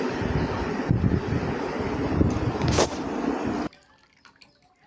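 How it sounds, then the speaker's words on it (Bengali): Washed potatoes being drained of water, a steady rushing, dripping pour that runs for several seconds and then cuts off abruptly, leaving only faint small sounds. "বেশ ভালোভাবে আলুর থেকে জল ঝরিয়ে নিতে হবে"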